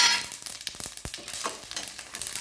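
Fennel seeds, sesame seeds and peanuts fry in hot oil in a kadai, crackling and sizzling up close, with sharp pops and stirring scrapes over a constant hiss and no talk.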